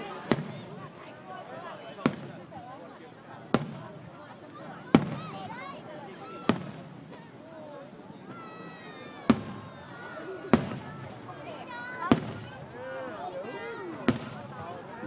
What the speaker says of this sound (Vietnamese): Đấy, bắn kết hợp hai loại pháo.